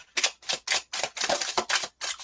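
A deck of tarot cards is shuffled in quick riffling bursts, about eight crisp rapid flutters in a row, close and fairly loud with no talk.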